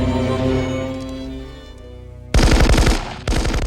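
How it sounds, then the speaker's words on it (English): Loud, rapid bursts of gunfire in the film Die Hard erupt after a stretch of low rumbling music, with a brief gap before a second burst. "we cut back to John hearing the gunfire."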